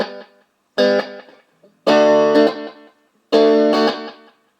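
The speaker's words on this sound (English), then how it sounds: "So turning the guitar up to about where it was, add the echo volume and the number of repeats." Electric guitar played through a 2004 Fulltone TTE tube tape echo, loud chords struck in bursts, each trailing off with decaying repeats between strikes.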